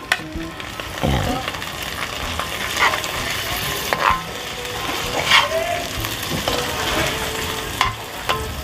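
Chopped garlic and ginger frying in a pan, a steady close sizzle with occasional scraping stir strokes and spatula knocks throughout, no talking.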